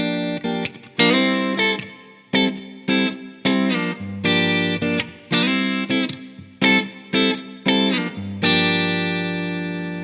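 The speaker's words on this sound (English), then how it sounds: "But if I use it as a minor 7 chord, it's gonna give me a Dorian sound like this." Electric guitar with effects plays a minor seventh chord as a two chord for a Dorian flavor, struck in a rhythmic series of short stabs with gaps, then left to ring out near the end, close and fairly loud.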